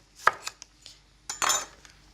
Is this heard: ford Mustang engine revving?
no